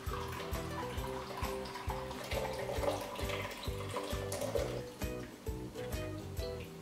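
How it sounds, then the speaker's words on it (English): Homemade almond milk mixture is poured through a cloth strainer, a quiet continuous trickle and splash of liquid with faint gurgles, close and soft, with no talking. "Pour the mixture above the cloth."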